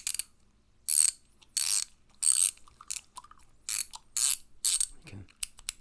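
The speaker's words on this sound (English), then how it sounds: "ratchet wrench." A chrome vanadium ratchet wrench clicks in close, crisp bursts, about eight separate runs of rapid pawl ticks separated by short silences, with no talking.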